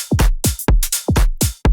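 Simple electronic drum beat of a sample-pack kick and clap, alternating in a quick, tight pattern, loud and dry with booming low kicks and bright snappy claps.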